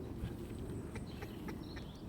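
A horse walks sideways during groundwork training at the pillar, its hooves landing in a soft, regular clip-clop of about four steps over a steady low background.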